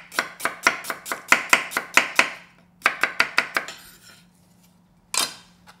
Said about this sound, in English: Ginger sliced thin.